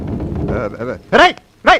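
A dog in a Telugu comedy film scene barks twice, two loud close barks after a stretch of voices talking.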